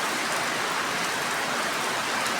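Steady rain falling, a dense, even hiss of drops on surfaces that continues unbroken at constant loudness, with no voices.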